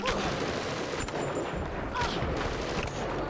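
Gunfire in the video game BioShock: a dense, rapid volley of shots rattles continuously through the short stretch at moderate loudness, with no clear talk over it.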